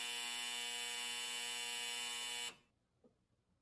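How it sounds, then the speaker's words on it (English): A harsh, steady electronic buzz drones for about two and a half seconds, then cuts off abruptly, leaving a quiet room. "just a buzzer"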